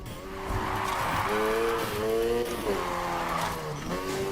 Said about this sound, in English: that's a beautiful drift